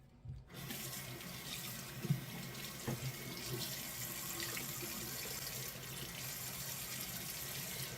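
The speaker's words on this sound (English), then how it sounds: "I'm squeezing a lot of water on here." Steady stream of water running and splashing as a lot of water is squeezed onto a wig for lace bonding, continuous hiss throughout with a couple of faint knocks, no talk.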